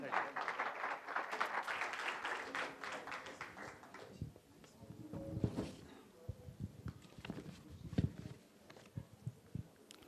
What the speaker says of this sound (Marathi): एकदा जरा जोरदार टाळ्या अनंत सावंतजींसाठी